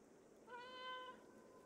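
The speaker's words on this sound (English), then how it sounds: "Meow." A single short cat meow from the video game Stray, played as a black cat with a fur mod, a clear tonal cry rising and falling, quiet and alone.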